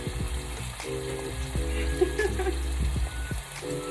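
Chopped onion sizzling and frying in a hot pan for a plant-based dinner, a steady close crackle with a few scraping stirs and clinks, no talking.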